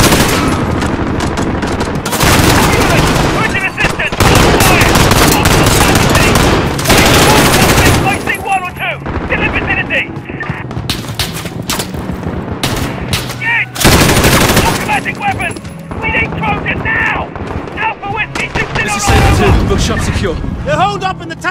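Loud, dense bursts of automatic gunfire and heavy shooting in Call of Duty: Modern Warfare's Piccadilly mission, coming in rapid volleys with brief lulls while voices talk over the combat.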